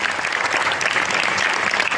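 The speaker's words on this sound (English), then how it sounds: "Round of applause" Dense, steady audience applause at an IIT BHU technical festival inauguration ceremony, loud and continuous from start to finish.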